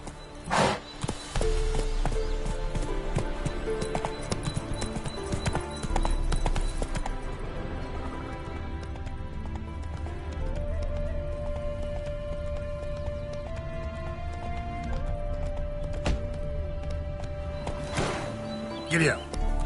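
Horse galloping in The Witcher 3 video game, giving a fast steady clip-clop of hooves close by for nearly twenty seconds, with game music and a voice occasionally heard over it.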